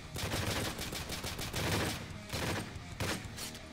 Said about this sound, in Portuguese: Oh, a sua metralhadora é muito alta